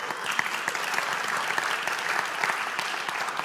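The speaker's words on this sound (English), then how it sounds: "big round of applause for those people who just stood up" Steady round of audience applause at a talk on online courses, a continuous patter of many hands clapping at moderate level without pause.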